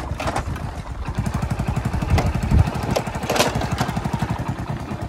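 A tractor's diesel engine chugs steadily close by, a loud rhythmic thumping with a rattling, clattering edge.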